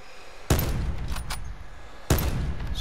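Two sharp gunshots ring out in Call of Duty: Black Ops 4 about a second and a half apart, loud and close with a short ringing tail after each, and no talk.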